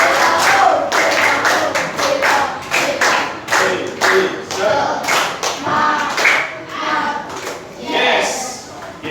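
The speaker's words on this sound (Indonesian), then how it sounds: "Tepuk semangat, oke? Tepuk semangat." Rhythmic cheer clapping by a classroom of children, with bursts of sharp, patterned claps and thumps close by, mixed with kids' voices.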